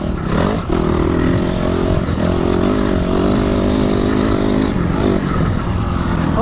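A motorcycle engine revs and roars up close while riding over jumps, with rattling, scraping clatter and shifting engine pitch throughout.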